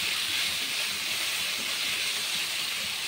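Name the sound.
potatoes frying in a pan for fish curry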